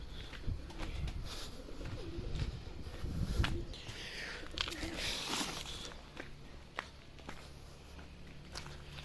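Tumbler pigeons coo softly outdoors amid rustling and faint footsteps, with brief scattered bird calls over a steady background hiss.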